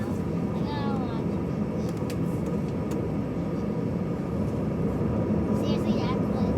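Delta Airbus A320-214 taxiing for departure at Austin airport, a steady loud engine rumble heard from inside the cabin, with passengers talking over it.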